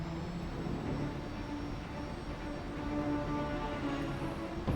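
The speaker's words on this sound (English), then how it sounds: "There are 2 jets flying." Two jets fly low over the ground in the DCS flight simulator game, producing a continuous roaring jet-engine rumble with a faint high whine, steady and fairly loud with no pauses and no voices.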